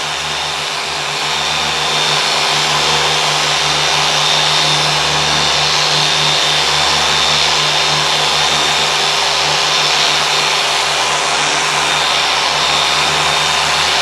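A 3-inch dual action machine polisher running at speed 4 on car paintwork gives a loud, steady whirring hum with a faint high whine, ramping up in the first second and then holding constant.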